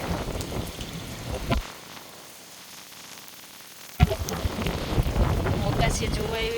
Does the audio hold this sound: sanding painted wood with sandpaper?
no